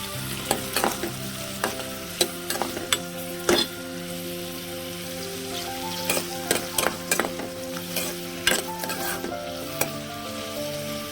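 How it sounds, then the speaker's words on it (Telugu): Chopped onions and green chillies frying on a low flame for a chikkudukaya (broad bean) curry, a steady soft sizzle broken by sharp clicks and scrapes of a spoon stirring in the pan, close and without talk. "ఉల్లిగడ్డ ముక్కలు వేసుకున్నామండి. సిమ్లోనే పెట్టి వేయించుకున్నామండి."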